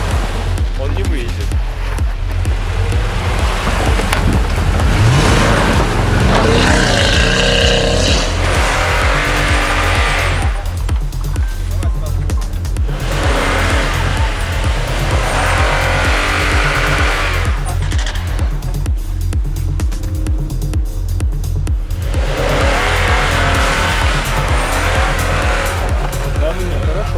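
A Toyota Tundra on huge wheels, stuck, roaring loudly with its engine revving hard and tires spinning and squealing in sustained waves, with people talking over the din.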